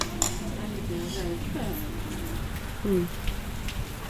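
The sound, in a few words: heavy rain falling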